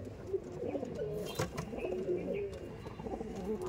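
Madras pigeons coo in soft, repeated low warbling phrases, close by, with a steady murmur of background noise and a brief rustle partway through.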